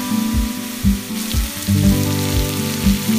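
Chopped onions dropped into hot coconut oil for an egg curry give a soft, steady crackling sizzle beneath louder tonal music with dull rhythmic thumps.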